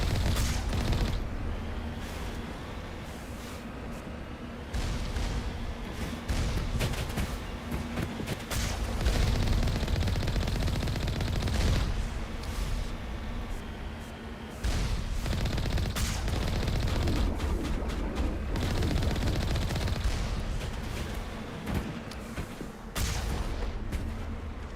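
Alliance turrets fire in Mass Effect Legendary Edition: dense, continuous rapid gunfire with booming impacts layered over a steady low rumble, loud and sustained throughout with no talking.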